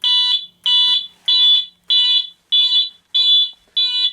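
A fire alarm system sounding in its loud second stage during a system test: seven strong, evenly spaced electronic tone pulses, near and loud, with short gaps between them.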